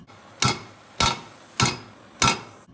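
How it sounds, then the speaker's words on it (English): Four sharp, evenly spaced metal hammer blows ring out close up on the exhaust pipe of a Slant 6 engine, where the pipe is jammed against the block with the flange still on the manifold. No voices are heard. "We tried hammering"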